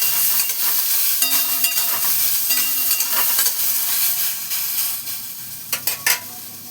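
Chopped tomato fries in hot oil with black cumin and fennel seeds, stirred in a pan: a continuous crackling sizzle with repeated scraping stirs and clinks, close and steady.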